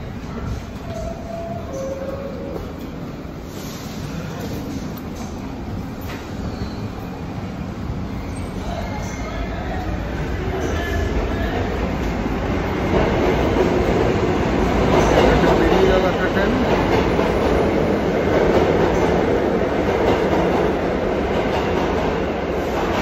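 A New York City No. 1 subway train runs at the 86th Street station, a loud, continuous rumble and rattle that builds and swells over time, with some voices faintly mixed in.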